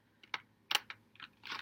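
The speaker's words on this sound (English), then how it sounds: "I try to shuffle these delicately because the cards are kind of flimsy." Flimsy tarot cards are shuffled gently: a few quiet, crisp papery flicks and snaps in quick irregular bursts, close and soft, without talk.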